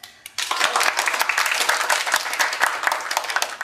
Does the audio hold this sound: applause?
yes